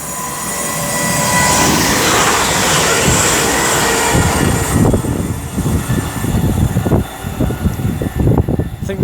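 Class 354 train 354.03 runs past on the West Coast Main Line at Marston Green, its Birmingham International to Birmingham New Street service building into a loud close rumble, then rattling wheel and rail clatter as the carriages pass.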